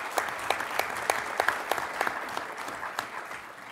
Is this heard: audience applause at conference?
yes